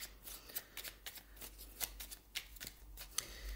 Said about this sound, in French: Je vais vous tirer une autre carte.